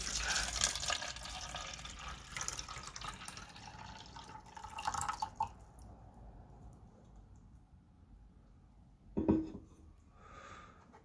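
Water poured from a cup over potted houseplants, a broad trickling and dripping wash for about five seconds, then quiet, followed by a short splash and soft tail near the end, no talking.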